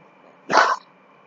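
A dog gives one short, loud bark close by indoors, then falls quiet with no talking.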